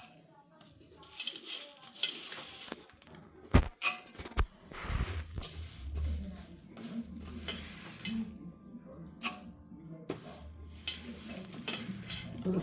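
Chana dal and urad dal dry-roast together in a pan, a soft scraping stir and light sizzle with several sharp clatters of the spatula on the pan and a faint voice in the background.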